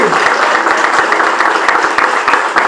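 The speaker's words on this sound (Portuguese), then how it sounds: "Você pode aplaudir por isso?" Church congregation applauds during a pastor's sermon, loud dense clapping with distinct sharp hand claps in a fast irregular patter, sustained throughout.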